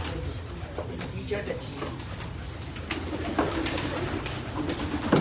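Domestic pigeons cooing in a pigeon-keeping setup, soft repeated coos under nearby conversation and background hum.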